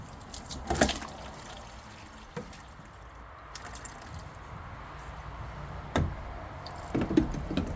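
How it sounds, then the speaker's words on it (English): Water trickles and drips as sand is rinsed out of a small blue filter canister during a filter change, with a few louder splashes standing out over a quiet, steady wash. "So we're doing this just to rinse out this little blue canister of any bits and pieces of sand"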